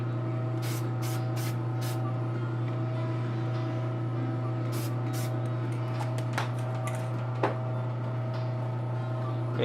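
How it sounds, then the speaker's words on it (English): Dull coat clear finish sprayed from an aerosol can onto an anime model kit, a steady hiss with short repeated bursts over a constant low hum, close and moderately loud. "So let's hit it with our dull coat"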